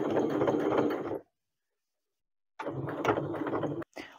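A sewing machine stitches a seam on a pair of Jodie trousers, running in two steady mechanical bursts with a clear pause of silence between them. The second burst stops with a brief click.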